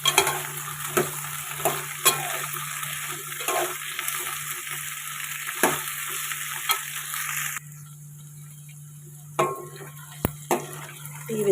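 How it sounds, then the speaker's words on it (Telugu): Cut okra sizzles and fries in hot oil while being stirred, with intermittent scrapes and clinks against the pan over a steady hiss that drops away toward the end, with no talking. "ఆయిల్లో వేసుకొని కొద్దిగా ఫ్రై చేసుకోవాలి. ఒకసారి కలుపుకోవాలి."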